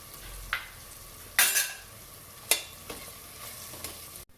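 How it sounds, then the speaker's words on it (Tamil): Quiet, steady sizzling of ginger garlic paste and green chillies frying in a pan, with a few louder scrapes and clinks as a utensil stirs it. "இந்த ரெண்டு பச்சை மிளகாவையும் இதில் சேர்த்துக்குவோம்"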